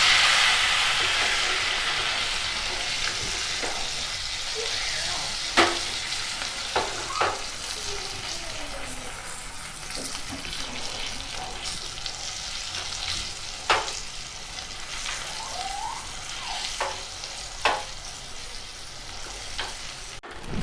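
Red chilli powder and soaked Byadgi chillies fry in a tempering, giving a steady broad sizzle with occasional sharp pops and spatters, alone without voices.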